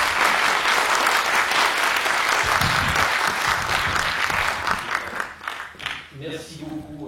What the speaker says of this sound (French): un tonnerre d'applaudissements pour le directeur d'AgroParisTech